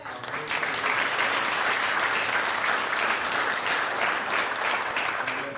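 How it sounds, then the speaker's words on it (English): Steady, dense clapping from a large audience at a Biloxi Chamber of Commerce gathering on the state of Keesler Air Force Base, holding loud and even from start to finish. "how about another round of applause?"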